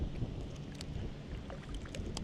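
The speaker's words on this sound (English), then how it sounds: "now we're heading back into the wind, directly into the wind. So it's going to be a little bit more challenging to paddle" Kayak paddled straight into a headwind across marshy water, steady wind rumble and water wash close to the microphone, with a few faint paddle splashes and drips breaking through.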